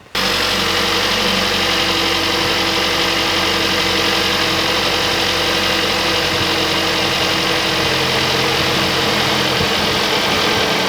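A Kia Sportage engine starts abruptly and settles into a loud, steady idle with a dense mechanical rattle, heard up close after a serpentine belt change, running continuously without talk.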